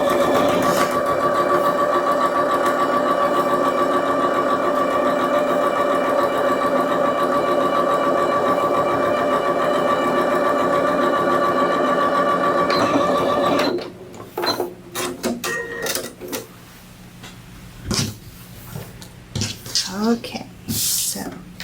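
Sewing machine stitching a seam on a fabric tote bag, a loud steady close mechanical whir with a tonal hum running continuously, then stopping abruptly and giving way to handling clicks and rustles.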